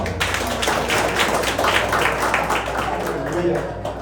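Church congregation applauding at a gathering of entrepreneurs, dense continuous clapping from many hands filling the room at full loudness throughout.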